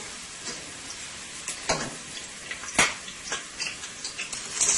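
Garlic sizzles and is tossed around in a pan for dhal, with a crackling fry broken by several sharp scraping and stirring strokes, close and fairly loud, and no talking.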